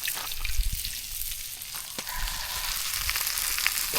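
Freshly caught seafood frying in a pan outdoors, a steady soft sizzle with faint crackles and a low background rumble, no voices.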